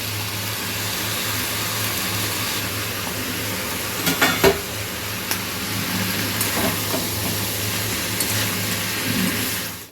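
Corn kernels fry in a pan with onions, giving a steady loud sizzle and hiss, with brief clatters of stirring near the middle and no voices.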